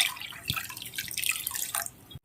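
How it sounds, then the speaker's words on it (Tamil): Water is poured into a pan on a lit stove to make syrup, giving a steady, close splashing rush for about two seconds before it stops. "தண்ணியை வந்து நம்ம எல்லா தண்ணியும் நம்ம சேர்த்துக்க போகிறோம்"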